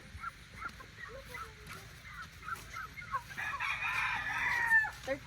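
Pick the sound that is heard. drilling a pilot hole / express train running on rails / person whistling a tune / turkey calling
turkey calling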